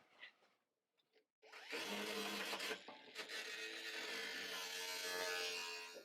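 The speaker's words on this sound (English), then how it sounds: "That's just a quick shot with the angle grinder." An angle grinder bites into metal on the frame of a 1937 Lincoln Zephyr during a spring perch install. After a few quiet handling knocks, it runs as a loud, harsh, steady grind for about four seconds, close up, with no talking.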